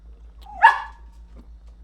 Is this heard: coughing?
no